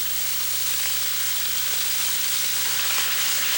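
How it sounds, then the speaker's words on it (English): Food browning without oil in a Turbo Cooker, a steady close sizzle with light stirring scrapes, continuous and even throughout. "Just give that a little bit of a stir."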